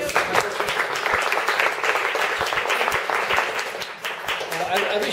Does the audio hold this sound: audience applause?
yes